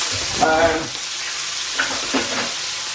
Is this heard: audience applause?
no